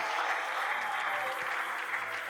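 Sustained audience applause at a French-language Christian church conference, steady dense clapping filling the whole stretch without pause, loud and even.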